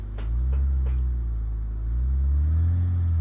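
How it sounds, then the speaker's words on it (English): A BMW car doing a burnout, its engine letting out a loud, sustained low roar and rumble that swells slightly toward the end, with no talking. "BMW does craziest burnout"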